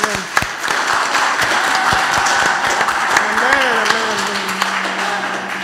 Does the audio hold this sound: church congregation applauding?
yes